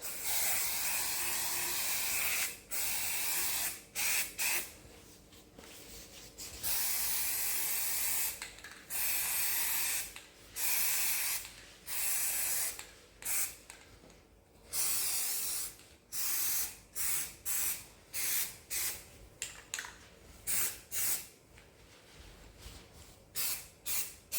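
Undercoat spray paint hisses from an aerosol can onto an old jug in repeated bursts, short and long sprays separated by pauses, close and fairly loud with no talking.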